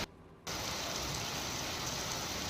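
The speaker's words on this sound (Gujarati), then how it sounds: "મોડી રાતથી ભારે વરસાદ સુરતમાં પડ્યો છે" Heavy rain pours down in Surat, a dense, steady hiss of drops on surfaces that starts after a brief quieter moment and continues evenly, fairly faint overall with no voices.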